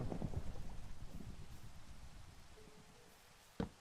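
Steady rain from a Minecraft thunderstorm, a soft continuous patter that slowly fades, with one sharp close crack near the end.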